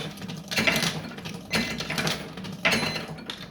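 A Triumf fruit machine's mechanism runs in three separate bursts of whirring and clicking, each rising sharply and then fading. The sound is close and moderately loud, with no talk.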